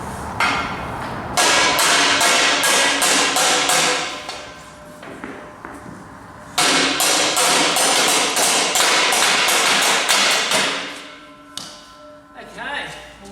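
Horse stable panel pieces with a ply front and hinged door being tapped together: two long runs of rapid, loud, close hammer taps, separated by a short pause, then a few scattered knocks at the end.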